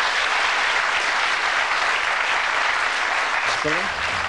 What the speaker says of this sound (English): Give him an encouraging round of applause as he throws the charity.